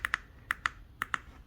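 Typing on a Roccat Vulcan Pro mechanical keyboard with red linear switches produces six crisp, close keystrokes in quick pairs, light and clicky against a quiet background.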